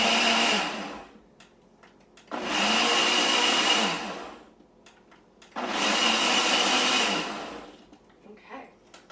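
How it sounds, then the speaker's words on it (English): A bullet blender purees strawberries in three loud whirring bursts, each lasting a couple of seconds, with short quiet gaps between them. "But if you want a nice puree, you're gonna want to use your blender or food processor"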